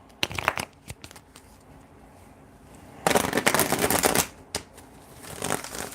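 Tarot cards being shuffled up close: crisp riffling bursts and slaps, with a dense, sustained riffle through the middle and scattered snaps around it, and no talking.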